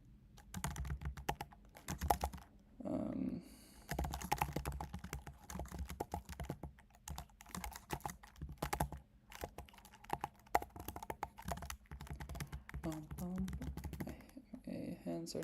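Rapid typing on a computer keyboard while coding, irregular bursts of close key clicks and taps that continue throughout, with a person talking over the clatter.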